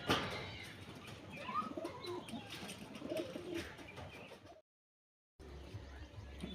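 Pigeons coo softly and repeatedly at close range, with a few chirps and rustles mixed in. The sound cuts to silence for nearly a second before resuming.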